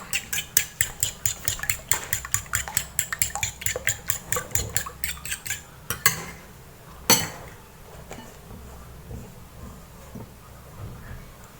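A rice-serving spoon beats eggs in a bowl, making rapid, steady clacking strokes for about six seconds, then a few scattered clinks and a sharper knock, fairly close with no talk.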